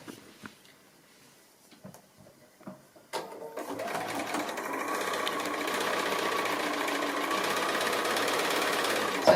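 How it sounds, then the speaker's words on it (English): A sewing machine stitches a foundation-pieced quilt block, starting with a few faint taps and then running as a steady, close whirring hum for several seconds. "I'm just going to stitch this line, just starting a little bit beyond and out to the edge there"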